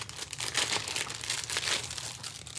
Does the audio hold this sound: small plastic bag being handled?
yes